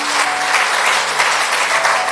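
A church congregation gives a short burst of dense, lively applause at close range.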